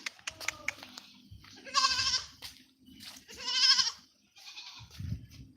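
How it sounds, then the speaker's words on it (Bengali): A young goat kid bleats in two clear, drawn-out cries at close range, with a fainter third call and light rustling, while a person speaks briefly in between. "ছাগলের মায়ের কাছে চলে যাচ্ছে"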